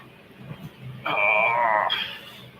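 A small pet dog lets out one close, drawn-out whine lasting about a second, rising clearly above a quiet indoor background.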